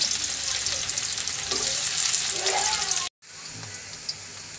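Spice paste sizzles loudly in a hot pan for a dried fish curry, a steady close crackle with faint stirring scrapes, briefly cut off near the end before the frying resumes.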